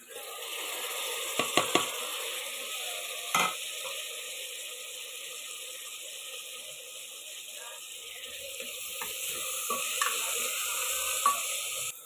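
Cucumber pieces and tomatoes fry in a pan with a continuous bright sizzle, interrupted by occasional utensil scrapes and clinks.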